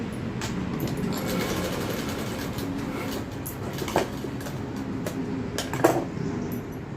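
A sewing machine stitching a folded strip of leftover dress fabric, running in a steady, continuous mechanical whir with a few small clicks, close by.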